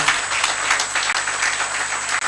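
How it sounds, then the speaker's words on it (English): An audience at a gathering applauds loudly for a couple of seconds, a thick, sustained wash of many clapping hands filling the room without speech on top. "With a very loud applause, I present to this gathering Princess Orelope Adesu."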